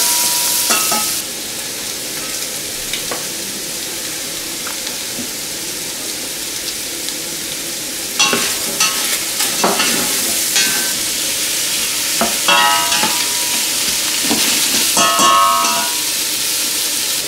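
Garnish sweats and sizzles in a pan for a Basque ttoro fish stew, a constant frying hiss broken by the clatter of a spoon as the mixture is stirred now and then.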